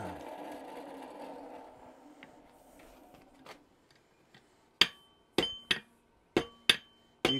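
A hammer strikes metal on an anvil that rocks on a hump underneath, giving a run of sharp, ringing blows after a few seconds of quiet, close and loud with no talking.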